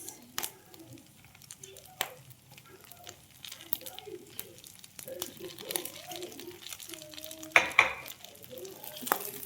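Onion, garlic, tomato and ground meat sauté in a pan for ginisang sayote, with soft sizzling and scattered stirring scrapes and clinks while a person talks throughout.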